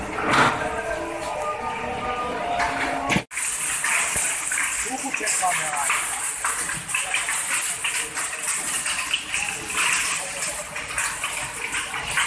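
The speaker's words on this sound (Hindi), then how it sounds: "बहुत ज़्यादा शदीद किस्म की बारिश शुरू हो गई है" Heavy rain pours down in a torrential May storm in Punjab, a steady loud wash of falling water with splashing, while a voice talks over it.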